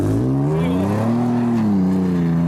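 A Toyota FJ Cruiser's engine revs hard as it drives out on a rally-raid course, a loud sustained tone rising and easing over a couple of seconds, close to the listener with no talk over it.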